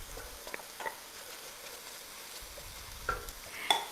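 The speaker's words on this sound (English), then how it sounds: "let's put in the onion now" Onion frying gently in a pan, a quiet continuous sizzle with a few soft clicks and taps of utensils, close and low in level with no talking.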